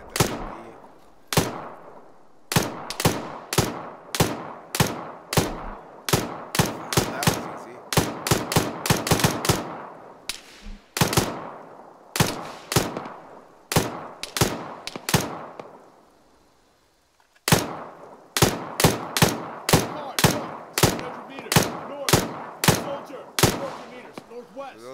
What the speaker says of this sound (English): That Humvee was shooting that Humvee.